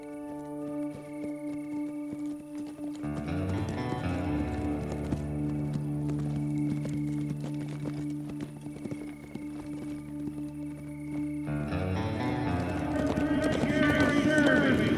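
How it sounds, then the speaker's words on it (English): A horse circles barrels in a competition arena, its hooves drumming and thudding in quick runs beneath sustained music that swells toward the end. "de un caballo circulando alrededor de barriles en una arena."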